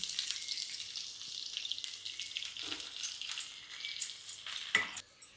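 Shallots and curry leaves sizzling in hot oil as a tempering for cauliflower kuzhambu, a continuous close crackling hiss with a few sharper pops and stirring knocks near the end.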